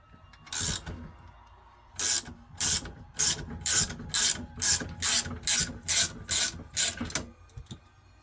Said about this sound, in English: Got my jaw puller all set up,